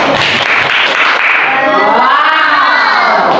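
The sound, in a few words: children clapping and cheering in classroom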